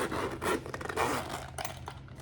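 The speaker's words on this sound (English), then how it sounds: "The zipper goes all the way around." A zipper is pulled around a Pop Mart Labubu bag in one continuous close, scratchy run lasting about two seconds, loud and alone.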